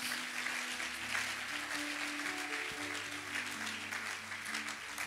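A church congregation claps in soft, dense applause that continues throughout at a distance, with a low sustained musical tone underneath.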